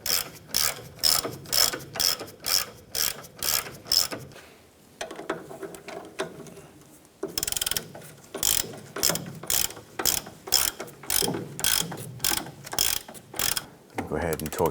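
Ratchet snugging up an inner tie rod end on a Chevrolet S10, rapid repeated clicking bursts of the pawl in quick strokes with a short pause midway, close and loud, no talk.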